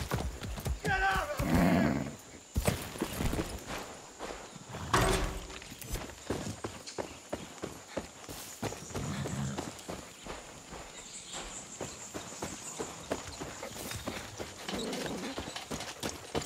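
A horse in Far Cry 6 whinnies loudly near the start, then its hooves clop steadily at a walk, with another neigh around the middle and occasional talk over the steps.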